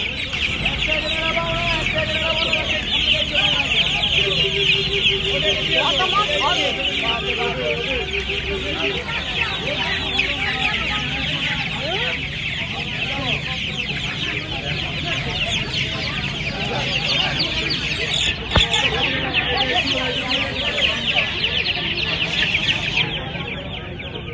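Chickens cluck busily and without pause at a crowded poultry and pet market in Uluberia, with shrill peeping from chicks. A seller's voice talks over the flock now and then.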